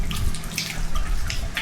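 Water at a pool-like fish pond near a waterfall drains away in a steady, bubbling, gurgling flow, close and fairly loud, with no voices.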